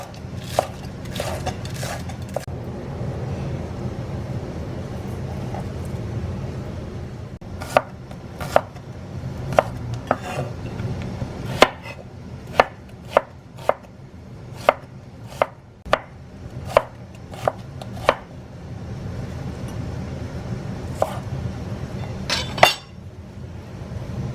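Knife chopping spring onion on a board for Lao sausages: a steady run of sharp, close, evenly spaced chops that speeds into a quick rhythmic burst, over a low room hum, with no talking.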